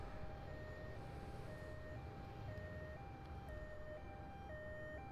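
A two-tone ambulance siren in the video game Grand Theft Auto III alternates evenly about twice a second, steady and fairly faint over a low background rumble.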